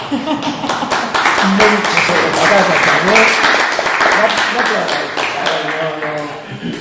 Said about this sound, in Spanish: No me gusta nada el fin de fiesta de aplausos